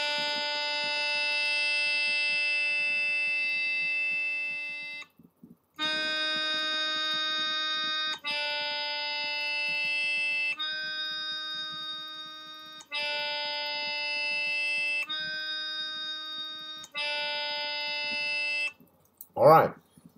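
A single sustained musical note played for pitch-matching practice, a bright harmonic-rich tone repeated in several long stretches with brief gaps and ending in a short noisy burst.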